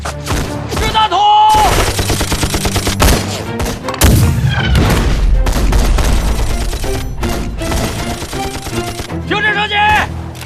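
Machine gun and rifle fire in a war film battle, dense rapid bursts and loud single shots with booms, alternating with brief pauses, and voices shouting amid the gunfire.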